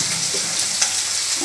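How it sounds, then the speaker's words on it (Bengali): Fish frying in a pan in a home kitchen, a steady broadband sizzle and crackle close up, continuous for the whole stretch with no voices. "এখন মাছ ভেজে নিচ্ছি।"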